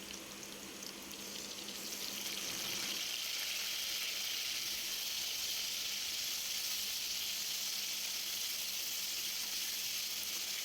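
Onion paste goes into a pan of fried potatoes for a pomfret fish curry. A hissing sizzle builds and then holds loud and steady, close to the pan, with no talking.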